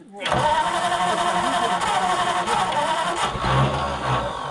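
A Ford Flathead V8-60 engine in a hot rod, revived after sitting for a few years, cranks and catches, then runs loud and close with a rough, steady roar, while people talk nearby.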